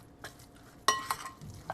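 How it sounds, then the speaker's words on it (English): A spoon stirs a turkey Salisbury steak mixture in a bowl, giving a few soft scrapes and one sharper clink against the side, quiet and close, with no talk. "let's stir it up a little bit"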